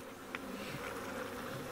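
Honeybees buzzing at a hive in April, a steady, soft, droning hum that holds evenly throughout with no voices.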